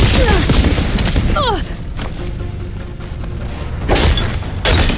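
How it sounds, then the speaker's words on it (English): A heavy cannon in the Horizon Forbidden West video game fires in loud, booming blasts, with explosive thuds rolling through the scene and a character's voice talking over the combat. "I love this cannon!"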